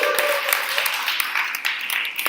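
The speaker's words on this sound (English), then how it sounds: "I absolutely deserve that applause." A brief burst of audience applause at a talk, moderate and steady, with a faint voice near the end.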